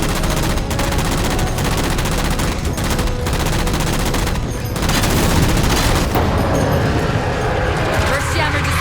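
Heavy gunfire in Halo 4 while shooting down jammers, a dense continuous barrage of rapid shots and impacts, loud and steady throughout with a game voice over the din.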